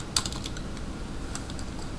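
Close, quick keystrokes on a computer keyboard while someone sets up a Minecraft server, with a sharp clack near the start followed by a softer, irregular patter of typing.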